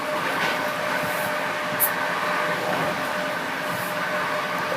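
Steady low rumble and rolling hum inside a moving train carriage in Poland, with faint rhythmic rattles and no voices.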